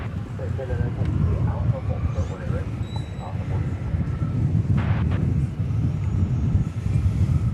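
A jet airliner roars in arriving at DFW Airport, a heavy sustained engine rumble heard from some distance, with talk and radio chatter over it.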